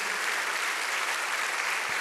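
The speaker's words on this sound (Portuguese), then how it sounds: "Dá uma salva de palmas a Ele." A church congregation claps together in steady, dense applause at an even volume, sustained across the whole moment without any speech on top.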